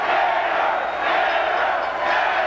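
A dense crowd roars steadily at a 1984 kickboxing match between Dennis Alexio and Rob Salazar, loud and continuous with swelling surges as a round ends.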